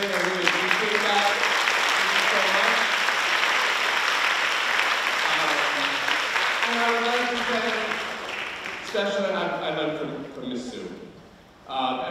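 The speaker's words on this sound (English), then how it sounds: "I'd also like to give a round of applause to all of our high school students" An audience at an elementary school winter concert claps steadily and loudly for a long stretch while a voice talks over it, the applause thinning toward the end.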